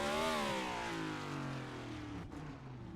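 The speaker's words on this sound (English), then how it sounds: "That's why you heard him firing the engine up, but nothing was going." A race car's engine, wrecked in a crash at New Hampshire Motor Speedway, whines and revs down in a long falling pitch, loud at first and fading slightly, heard alone.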